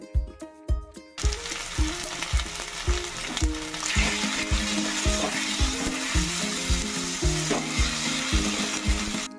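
Fried onion paste sizzles loudly in a hot pan for Golbari-style kosha mangsho, a continuous close frying hiss with a steady run of scraping stirring strokes, and no talk.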